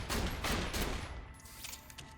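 Hyperion Bullpup shotgun fired in the video game Borderlands: The Pre-Sequel, one loud booming blast with a rattling tail that fades out over about two seconds, heard alone.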